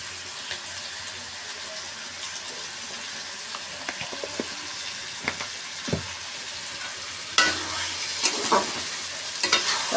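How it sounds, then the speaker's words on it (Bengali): Ginger-garlic paste and chicken pieces being stir-fried in a pan, a continuous sizzle broken by scattered spatula scrapes and knocks. The stirring grows louder and busier toward the end, and no one speaks. "তারপরে কষাতে থাকবে।"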